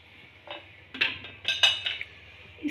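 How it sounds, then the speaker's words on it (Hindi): A metal spoon stirs kadhi in a cooking pot, giving several separate clinks and scrapes against the pot's sides at an uneven pace, close and fairly clear, with no talking. "इसका चम्मच हमने तब तक चलाते रहना है जब तक इसको बॉयल ना आ जाए।"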